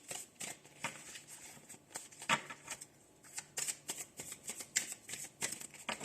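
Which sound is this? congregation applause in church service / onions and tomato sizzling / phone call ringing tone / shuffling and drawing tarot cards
shuffling and drawing tarot cards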